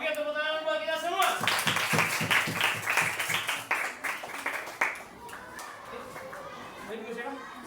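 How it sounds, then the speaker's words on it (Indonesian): A classroom of students claps together briefly after a religious education lesson, a quick burst of clapping with voices, fading into chatter and a teacher talking. "tepuk tangan buat kita semua."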